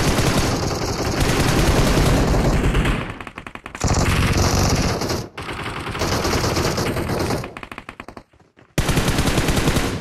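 Automatic gunfire in PUBG Mobile: long, loud, rapid bursts of close shooting, broken by brief pauses and a short silence before a final burst.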